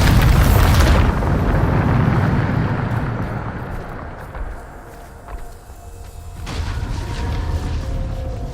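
Bombarda spell blasts in Hogwarts Legacy: a loud, booming explosion opens the clip, followed by a long rumbling decay and a second heavy burst near the end, with no talk.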